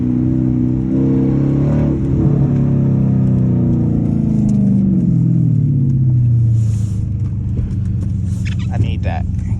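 A straight-piped Dodge Charger R/T with no catalytic converters rumbles loudly throughout a night drive, its exhaust rising in a deep revving sweep midway before settling, heard close from inside the car.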